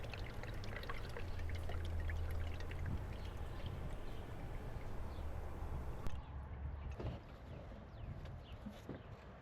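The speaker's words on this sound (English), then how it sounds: "Now using a funnel, start pouring in your 6 quarts of oil." Motor oil pouring through a funnel into the engine of a 2026 Dodge Ram during an oil change, a soft continuous glugging trickle heard close up and fairly quiet.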